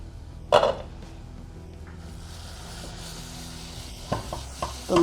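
Spice masala for an onion-free, garlic-free vegetable biryani is roasted and stirred in a pan, with a loud scrape at the start, then a soft, steady sizzle and a few more utensil scrapes near the end.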